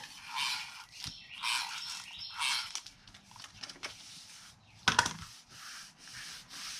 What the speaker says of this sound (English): we're going to take our envelope and let's seal it